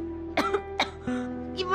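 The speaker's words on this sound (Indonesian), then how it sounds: "orang kamu batuk-batuk begitu bilang gak apa-apa" Several coughs from a young woman at close range, two or three bursts spaced through a short moment with a steady low tonal hum beneath, in an Indonesian drama scene.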